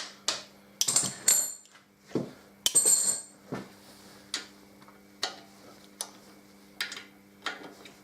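Socket wrench loosening bolts on a Harley Davidson Deuce motorcycle: a series of sharp metallic clicks and ratcheting taps, some in short rapid bursts, others as single ticks spaced about a second apart, close by with a faint steady hum beneath.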